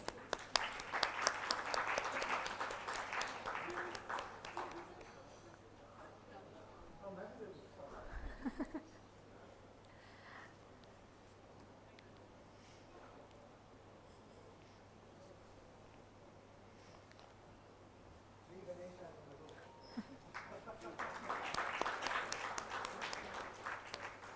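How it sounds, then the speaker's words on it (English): Applause from a conference plenary session audience at the 2018 GRIHA Summit rises at the start, dies away into quiet room noise with some murmuring, then a second burst of clapping swells near the end. "Round of applause, please."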